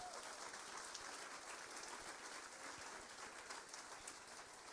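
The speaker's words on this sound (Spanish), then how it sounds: "Dele palmas al que vive y reina." A church congregation clapping during an evangelical sermon, a steady, dense wash of many hands heard from a distance and fairly faint, with no talk over it.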